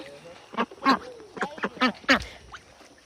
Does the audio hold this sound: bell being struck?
no